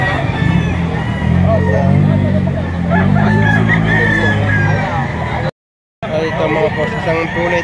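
Chickens at a busy Lipa, Batangas market cluck and crow up close, with voices talking over the birds and traffic and crowd noise behind, then a brief cut to silence before the clucking resumes.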